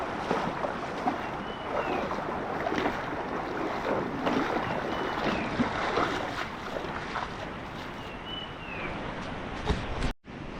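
Water rushes steadily as someone wades across a small monsoon stream near Kondi waterfall. The broad, continuous wash stays close and fairly loud, with no voices, and drops out sharply for a moment near the end.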